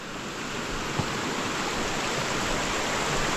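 River water rushes in a steady, loud, broadband wash where a river splits into two channels, continuous and close, with no voices.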